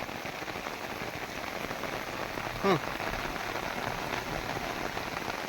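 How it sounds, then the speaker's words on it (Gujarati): Steady rain pours down in a dense, continuous hiss, with one brief clatter partway through. "જોઈ શકો છો તમે અત્યારે આ વરસાદ એક એક ધારો વરહે"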